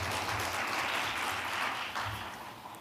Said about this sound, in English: please welcome him again with a big round of applause.